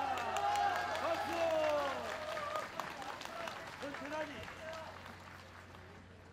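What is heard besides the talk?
audience applause during a speech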